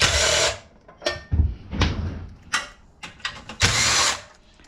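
A power drill whirs in several loud bursts, revving up and stopping repeatedly with short pauses between, close by and without talk.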